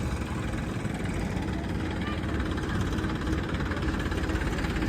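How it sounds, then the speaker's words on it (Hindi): A tractor engine idles close by on a rural road, a dense, loud, continuous rumbling drone with steady vibration and no pauses. "आज पहली बार ट्रैक्टर से लिफ्ट मांग के देखते हैं।"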